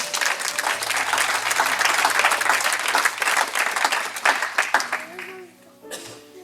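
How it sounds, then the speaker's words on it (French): A church congregation claps loudly for a couple, a dense burst of applause that fades out toward the end as a voice begins speaking. "On va les applaudir bien fort"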